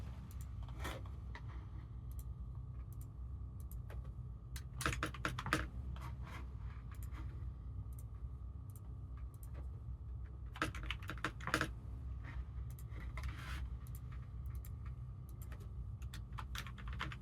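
Rapid typing on a cheap Inland computer keyboard clatters close by in uneven bursts, with denser flurries of keystrokes at intervals over a low steady background hum.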